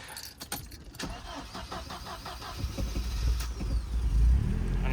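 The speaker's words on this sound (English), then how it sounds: "the car starts and runs pretty nice" An old car known as the Red Flag, fitted with smaller front tires, heard close up with clicks and mechanical creaks, then its engine cranking and settling into a low, steady running rumble.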